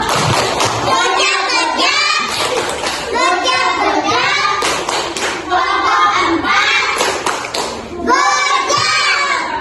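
Elementary school third-graders in an Indonesian classroom perform the 'tepuk gudeg' clapping cheer, with rhythmic bursts of hand claps mixed with loud children's chanting voices throughout.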